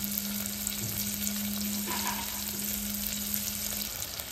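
Onions sauté in a pan for butter chicken gravy, giving a steady, even sizzle throughout with a faint constant hum behind it.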